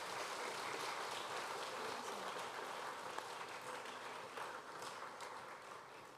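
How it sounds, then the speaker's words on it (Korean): A church congregation applauds during a Sunday afternoon service, steady, dense clapping that fills the whole stretch at a distance, fairly faint and even, with no talk over it. "다시 한번 박수로 응원해 주세요."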